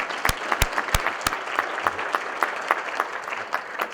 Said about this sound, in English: I want a round of applause for those head coaches that are here today.